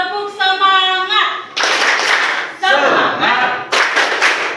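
A classroom clapping chant led by a teacher: bursts of group hand claps in a rhythmic pattern alternate with chanted voices of children and the teacher, loud and close, repeating in short phrases.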